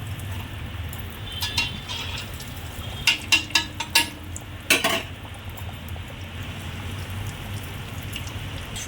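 Chicken paneer combo fry pieces sizzling as they are lowered into hot oil in a wok, giving a steady rain-like crackle with a handful of sharp utensil clinks in the middle.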